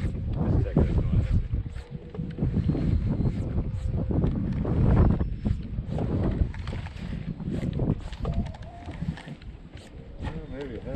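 Wind buffets the microphone on a fishing boat out after smallmouth bass, a loud, gusty low rumble running throughout with water and boat noises mixed in and people talking underneath.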